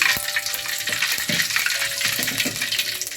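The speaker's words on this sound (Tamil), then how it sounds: "கடுகு உளுத்தம்பருப்பு போட்டு பொரிஞ்சு வந்ததும்" Mustard seeds and urad dal spluttering in smoking-hot oil in a steel pan, rapid crackling pops over a loud continuous sizzle, close up with no voices.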